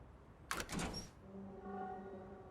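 A door opens in the video game Lost Judgment, a short burst of clattering sliding noise followed by a quieter lingering hum and faint tonal background.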